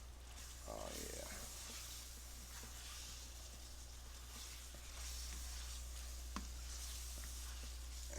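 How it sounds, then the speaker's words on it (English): Ground beef sautéing in a pan for an enchilada casserole, a steady loud sizzle and hiss throughout with occasional scraping and stirring clicks. "so you saute in the ground beef"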